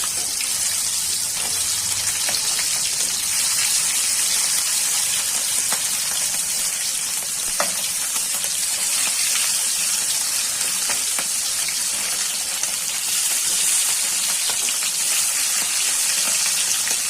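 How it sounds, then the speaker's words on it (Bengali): Steady sizzling and spitting of hilsa fish frying in hot oil, dense and continuous with scattered pops, no talking. "এক পাশ ভাজা হয়ে গেছে, আবার উল্টে পাল্টে ভেজে নিচ্ছি ভালো করে।"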